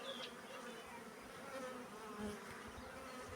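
Honeybees from a swarm hum steadily around a hive frame hung in a tree, a dense continuous buzz with individual bees droning past nearby, fairly faint outdoors.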